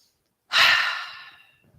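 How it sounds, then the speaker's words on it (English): A single deep, breathy exhale during a seated chair yoga session, close and clear, rising sharply then tapering off over about a second in otherwise quiet surroundings. "take a breath in and out"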